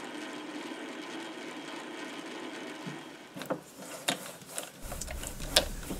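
A metal lathe cuts threads for a T-screw in a workshop, a steady mechanical hum followed by irregular clunks, scrapes and sharp knocks from the machine, heard close and without talk.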